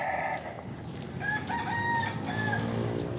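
A rooster crows a few times at moderate distance, its calls standing out over a steady outdoor background hum.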